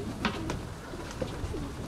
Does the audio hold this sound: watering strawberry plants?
no